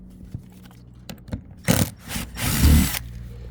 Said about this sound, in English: Go ahead and remove these screws back out again.